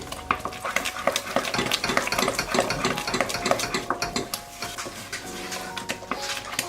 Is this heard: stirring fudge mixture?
yes